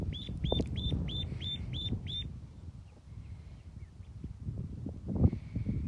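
Week-old ducklings on a farm give a rapid run of about eight loud, high peeping quacks, then scattered quieter calls over a noisy background.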